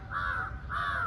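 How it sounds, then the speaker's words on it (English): Crows cawing outside, heard from an 18th-floor building, two drawn-out harsh caws with a short gap, fairly clear above a low background hum. "Oh, there are crows also."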